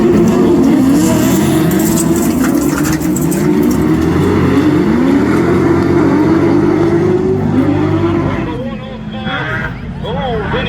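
Autograss racing cars in a Class 10 nationals race roar off the start together, a loud wall of engines revving and droning close by, easing off near the end, with crowd babble and commentary over the top.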